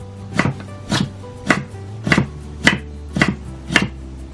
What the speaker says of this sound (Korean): 먼저 고구마는 껍질을 벗긴 다음에 가늘게 채 썰어주세요.